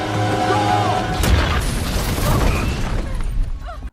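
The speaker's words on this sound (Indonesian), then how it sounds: "berhasil menyelamatkan Audrey sebelum tangki bensin meledak." A car fuel tank explodes in a film, a loud, roaring explosion bursting out with a sharp blast, then rumbling and crackling on without pause.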